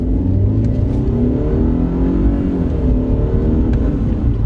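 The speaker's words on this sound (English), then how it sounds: "you can definitely hear the intake a lot more" A 2019-era Mercedes-Benz C250 (W204 C-Class) engine revving loudly up close, with a throaty intake roar that rises and falls continuously, no voices.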